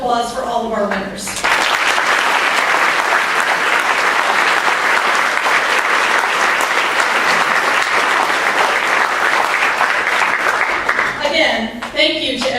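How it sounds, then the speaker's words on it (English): Audience at an achievement awards celebration applauding the winners, a long, loud, sustained round of clapping from a large room, with a speaker's voice briefly before and after. "Let's have one final round of applause for all of our winners"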